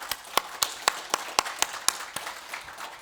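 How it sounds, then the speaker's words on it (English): Applause at a fireside chat event on AI in organizations comes as about a dozen evenly spaced, crisp claps in a steady rhythm, fairly close and moderately loud. "Can we have a big round of applause for Bojan Jovic?"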